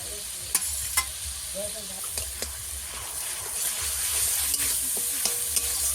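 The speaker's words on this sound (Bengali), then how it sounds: "জিরেটা ভালো করে আমি ভেজে নেব।" Cumin paste gently sizzles in a pan with repeated sharp scrapes and taps of a spoon stirring, steady hiss underneath, no talking.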